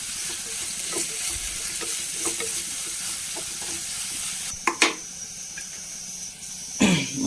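Chopped ginger and shallots fry in a pan, with a continuous sizzle, light scraping and stirring taps, and a couple of coughs and throat clears nearby.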